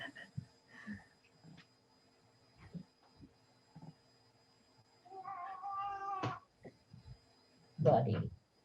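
A house cat moaning in a few drawn-out, wavering cries with brief pauses between them, close and moderately loud, amid faint soft thumps and quiet background noise.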